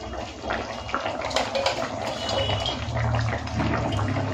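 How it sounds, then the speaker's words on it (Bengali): Fried rohu fish pieces are slid into a simmering potato and papaya curry, giving soft splashes and a bubbling, watery sizzle close by, steady and moderately loud. "চলুন এরপরে দিয়ে দেবো ভেজে রাখা মাছগুলো।"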